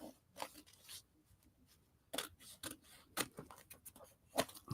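Scissors snip paper for a collage journal, a handful of crisp cuts and rustles spaced irregularly, quiet and close, with no talking.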